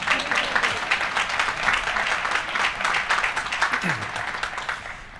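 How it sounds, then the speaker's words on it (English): Applause from the crowd at the Harvard Law School Class Day 2014 ceremony, dense continuous clapping with a little speech mixed in, gradually fading toward the end. "You can clap for my parents."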